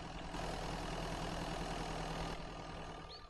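Vehicle engine idling in the survival video game Mist Survival, a steady low rumbling drone that holds evenly and eases off slightly near the end, with no talk over it.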